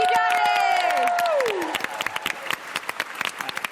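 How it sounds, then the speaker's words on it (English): Audience applause with some cheering at a live Oxventure Dungeons & Dragons show, a dense wash of clapping under a high sustained tone that glides downward, then thinning into scattered claps. "Big round of applause for Johnny."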